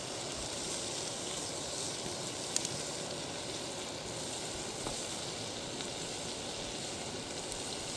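Bacon fries in a pan at an outdoor cook-up with a soft, even, crackling sizzle and a few faint pops throughout, with no talking.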